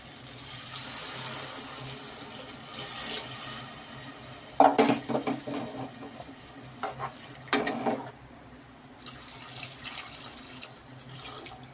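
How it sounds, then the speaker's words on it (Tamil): Water splashes into a pan of frying tomato masala for a simple palav, with sizzling, stirring and sharp pan clatters over a steady hissing background, and no voices. "நல்லா வதங்கிடுச்சு. ஒரு சொம்பு தண்ணி ஊற்றிக்கலாம்."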